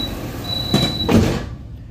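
Central closing of sliding passenger doors on a KA Mataram economy-class train, a brief pair of mechanical thuds and rumbles over steady carriage hum with a faint whine.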